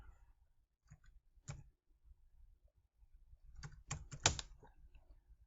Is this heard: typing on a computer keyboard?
yes